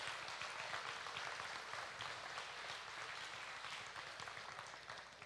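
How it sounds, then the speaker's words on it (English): Round of applause for first place winners at a state fair beef cattle show, a steady wash of crowd clapping, fairly faint and distant, tapering off toward the end with no talk. "let's give these all first place winners a round of applause"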